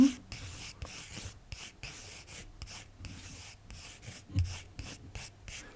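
Quiet, close scratching strokes of writing on a surface come in short rhythmic bursts separated by brief pauses, with no voices.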